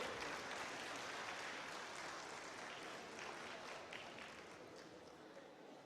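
A lecture audience in Lahore claps in sustained, dense applause that slowly fades in loudness over several seconds.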